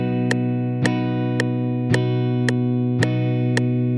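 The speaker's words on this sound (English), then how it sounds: "If the duration of each strum was half notes, or two beats, it'd sound like this." Guitar chords strummed in half notes, two beats per strum, a steady ringing sustain with seven evenly spaced pick attacks, close and clear with no talking.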